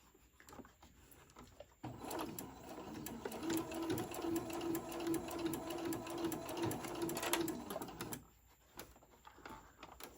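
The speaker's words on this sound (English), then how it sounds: "I'm going to sew, holding your little pleats, like right where you got them" A sewing machine stitches ruffle pleats on fabric for a tote bag, its rapid, even mechanical whirring running steadily for about six seconds between quiet pauses, fairly faint and close.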